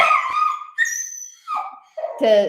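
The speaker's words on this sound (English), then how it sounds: "The dogs, like Pepe's been doing that a lot lately" A dog whines and whimpers in several short, high, wavering cries close by, with brief pauses between them.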